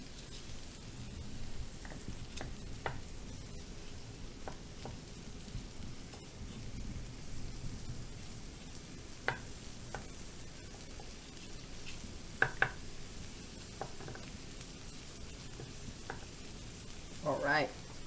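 Pork tenderloin searing in a pan gives a steady, even sizzle throughout, with a few faint clicks and a brief louder crackle near the end.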